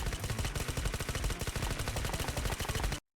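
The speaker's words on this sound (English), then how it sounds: "Shotgun!" Rapid, loud shotgun blasts fire in a steady rhythm during a reward round in the video game Snowbreak, close and continuous for about three seconds before cutting to silence.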